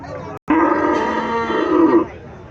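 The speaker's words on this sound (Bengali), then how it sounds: "এখানে একটা গাভী দেখা যাচ্ছে" A Friesian-type dairy cow at a cattle market gives one loud, close moo lasting about a second and a half after a brief pause.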